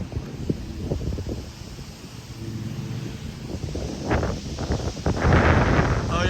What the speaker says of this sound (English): there's that strong wind gust right there